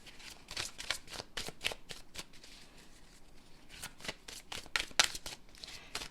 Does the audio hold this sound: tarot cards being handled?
yes